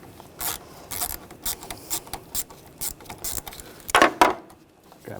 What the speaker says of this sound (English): I'm using a ratchet wrench, but you can use a regular wrench.